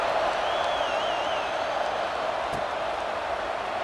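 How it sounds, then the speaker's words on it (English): A steady stadium crowd roar fills a college football video game with UCLA on the field. The broad, even buzz holds through the whole stretch at moderate loudness, with no single voice standing out. "this crowd is buzzing after that last score"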